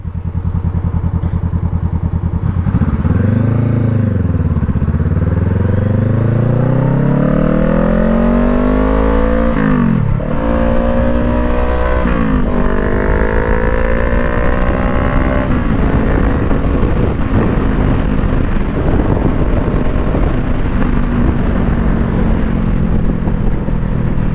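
A 2020 Honda CBR500R motorcycle on a highway, its engine revving up and down through the gears, loud and close under constant heavy wind roar.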